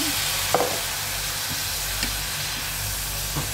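Food seasoned with soy sauce, paprika and salt being stirred in a hot pan, a steady sizzle and hiss running throughout with a few soft scrapes of the utensil, close and moderately loud.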